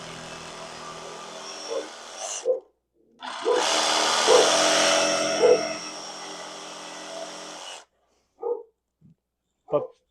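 A puppy barks in a few short, sharp bursts at close range, before and after a loud stretch of power tool noise in a workshop.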